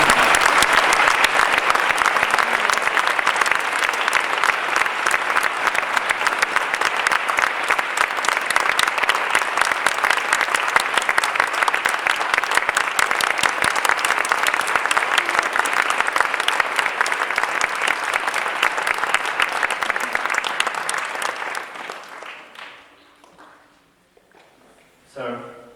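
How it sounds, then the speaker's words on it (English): Audience at a spiritual satsang gathering clapping in a loud, dense, sustained round of applause for about twenty seconds before it quickly fades to near silence. "Let's give a round of applause for Satsang."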